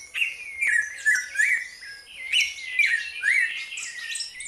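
Several birds sing and chirp together in a city park with trees and lagoons, overlapping bright twittering phrases coming in steady bursts, fairly close and clear, with no talking.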